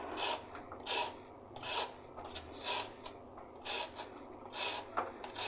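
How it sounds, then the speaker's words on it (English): A carrot rubbed against a hand grater in a kitchen, giving a steady series of about seven rasping strokes, each a short scraping burst with brief pauses between, close and fairly quiet with no talking. "So first I'll grate my carrot."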